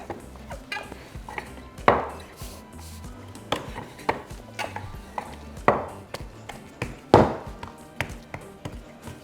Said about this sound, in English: Using my tortilla press or anything that's flat, we're going to press it down so we can shape our tortilla